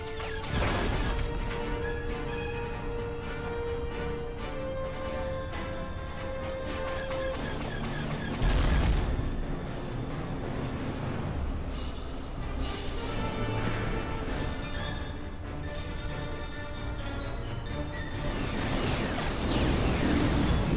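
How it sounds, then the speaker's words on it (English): Heavy battle fire on transports at Geonosis in Star Wars: The Clone Wars: a continuous barrage of crashing blasts and impacts, with sharp louder bursts around the middle and near the end, and no talk. "transports are under heavy fire"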